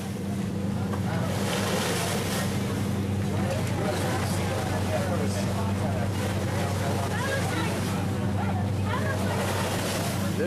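A big boat motors through a stormy squall in the rain, with a steady low engine drone under continuous wash of wind and water and a voice talking over it throughout.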